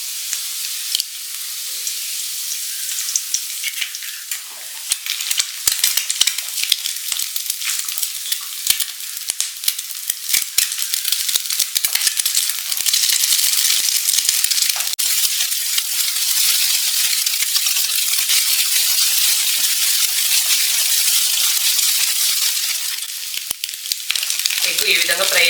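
Chicken fried rice frying in a hot pan, an intense crackling sizzle that swells after the first few seconds and holds loud and continuous, peppered with sharp spits of oil.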